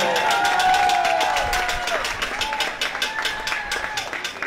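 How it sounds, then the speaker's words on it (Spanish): Audience applauding for don Heraclio at a street-festival crafts fair, a dense steady patter of clapping from a nearby crowd, fading into looser claps toward the end, with some voices and tonal sounds mixed in. "Un aplauso más fuerte para don Heraclio"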